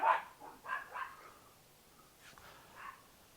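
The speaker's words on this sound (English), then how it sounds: "The dogs have just decided to chase a bird." Dogs bark while chasing a bird outdoors, giving a few quick, fairly faint barks and yips at a distance, then a brief pause and a couple more softer yelps.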